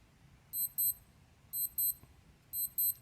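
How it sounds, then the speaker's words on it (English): A Casio G-Shock GA-710 digital watch alarm chirps in quick high-pitched double beeps, repeating three times about a second apart over faint background hiss. "nothing more than the typical G-Shock alarm"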